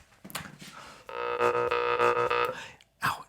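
A Sumatran jaw harp played right up against the microphone gives a steady, buzzing, twangy drone with shifting overtones for about a second and a half, framed by brief breathy sounds before and after.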